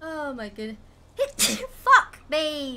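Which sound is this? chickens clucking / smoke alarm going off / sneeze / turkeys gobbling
sneeze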